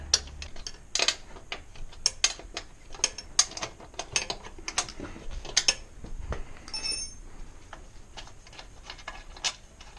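A spanner works the license plate bolts on a Brixton Felsberg 125 motorcycle, giving a string of quiet, close metallic ratcheting clicks and ticks in irregular bursts with brief gaps.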